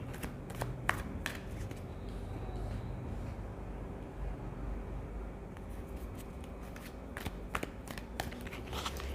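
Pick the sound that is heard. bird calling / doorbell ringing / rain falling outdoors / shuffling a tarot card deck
shuffling a tarot card deck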